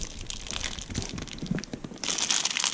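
A small plastic bag of Lego pieces from a City 4x4 Off Roader set is torn open, giving a steady close crinkling and crackling for a few seconds that grows brighter toward the end.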